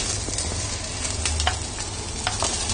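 Mini cauliflowers and mushrooms sizzle in a hot pan while being stirred, a steady close frying crackle broken by soft scraping and clinks, with no talk.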